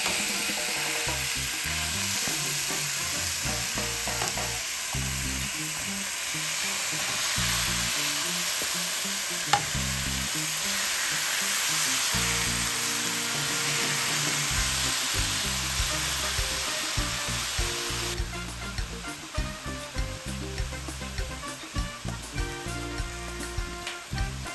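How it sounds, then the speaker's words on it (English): Ground beef sears in a hot pan with a dense, continuous sizzle that stays loud and close, broken by occasional stirring scrapes and softening in the last few seconds; no one speaks. "Now add the ground beef and let it sear for a few minutes."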